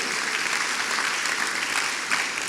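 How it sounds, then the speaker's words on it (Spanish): A church congregation gives a steady round of applause during a sermon, an even, moderately loud rush of many hands clapping together. "¿Cuántos le pueden dar un aplauso fuerte al Rey?"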